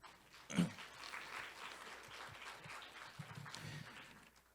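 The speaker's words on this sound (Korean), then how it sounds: "박수 부탁드리겠습니다" Faint, distant applause from a conference audience, a soft steady patter of many hands clapping for a few seconds with one slightly louder thump early on.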